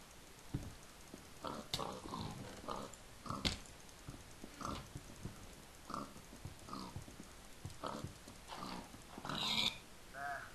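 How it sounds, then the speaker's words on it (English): A dog barks repeatedly in a Minecraft Skyblock game, short sharp bursts recurring every second or so over a busy bed of game sounds and animal grunts. "Your dog obviously didn't like that very much. Yeah, he's barking."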